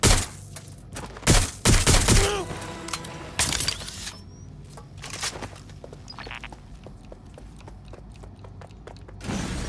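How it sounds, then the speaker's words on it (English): Watch Dogs Legion gunfire comes as scattered loud cracks and short bursts, heaviest early, then thinning into sporadic quieter shots against background noise. "I'm taking fire!"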